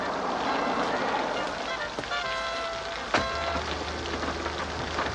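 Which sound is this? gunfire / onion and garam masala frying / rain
rain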